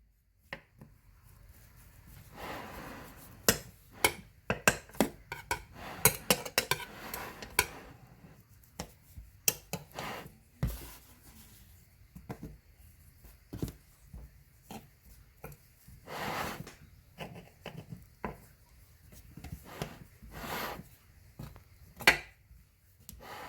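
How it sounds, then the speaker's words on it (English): A knife trims the edges of homemade pie crust, making quiet, intermittent scraping and light tapping strokes at irregular intervals, close by and without talk. "we will take a knife and we will trim off the edges"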